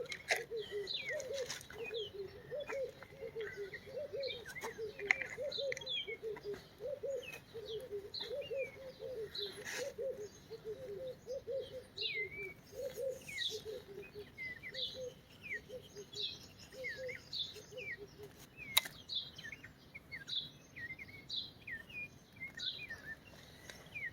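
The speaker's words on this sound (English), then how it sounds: "This is usually just birds" Morning birdsong outdoors in a garden, with many small birds chirping and doves cooing low and steady, all fairly distant and soft under a light background hiss, with no talking.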